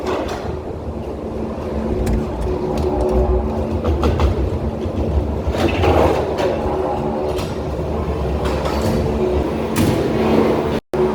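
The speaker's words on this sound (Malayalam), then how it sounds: "ഇത്ര അടുത്ത് ട്രെയിൻ പോകുന്നതേ" A train rumbles past very close near Haridwar, a loud, continuous roar of wheels and wagons holding steady for several seconds before cutting off abruptly.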